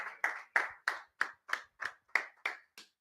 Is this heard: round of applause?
yes